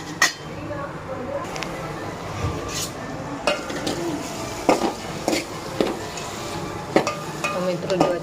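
Onions sauté in a pan with a soft, steady sizzle while a spoon clinks and scrapes against the metal in scattered taps, and a person talks over the cooking.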